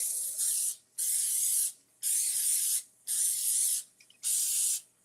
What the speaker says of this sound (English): So we're gonna spray it.